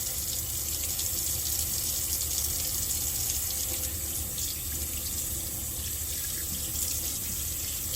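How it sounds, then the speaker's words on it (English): A tap runs steadily into a sink while hands are rinsed, a constant close rush of water with no pauses and no voices. "Next, we will rinse our hands and wrists, keeping your fingertips pointing down"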